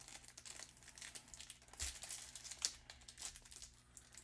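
A Panini Father's Day 2023 trading card pack is torn open, with soft crinkling foil and a couple of sharper rips, quiet and close, with no talking.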